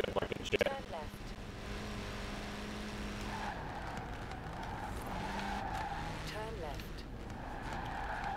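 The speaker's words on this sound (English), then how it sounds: "I really love how this tiny car sounds straight up like a jet" A tiny car roars in Forza Horizon 4, its high, jet-like engine howling steadily while the tires squeal and skid across the surface. The din is loud and continuous for the whole stretch.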